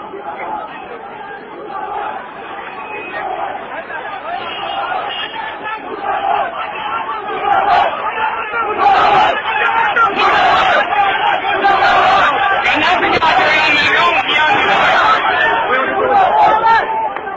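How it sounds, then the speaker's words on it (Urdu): A large outdoor crowd of protesters in Sialkot shouts and chants slogans against Khawaja Asif, voices overlapping loudly and building in intensity, with a few sharp whistles cutting through. "خواجہ آصف مرد آباد کی صدائیں بلند ہوتے ہوئے رنگ پورا چوک سیال کوٹ میں"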